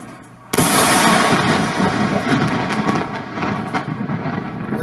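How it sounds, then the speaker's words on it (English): A huge explosion in Lebanon hits suddenly with a sharp, loud blast after a moment of low background noise, followed by a long rumbling roar that slowly fades with crackling bursts. "A huge explosion"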